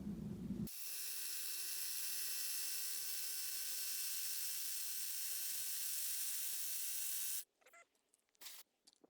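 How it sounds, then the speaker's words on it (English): A high-pitched drill whines steadily for several seconds boring a hole into rock for a glue-in climbing bolt, then cuts off, followed by a few brief clanks and scrapes. "just let the drill do the work and don't push too hard."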